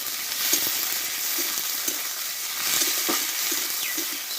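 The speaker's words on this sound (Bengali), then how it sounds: "এইবার দেবো এখানে কেটে রাখা কাঁচা টমেটো দিয়ে একটু নাড়াচাড়া করে নেব" Chopped raw tomato goes into well-fried onions and gets stirred, an even hiss of frying under soft, regular scraping strokes of a spatula, with no speech.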